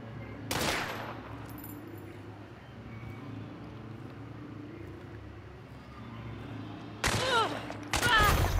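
Gunshots in the Western shooter Hunt: Showdown. One loud, sharp report rings out early, then a quieter ambient stretch follows, and two more close shots crack near the end over a low background hum.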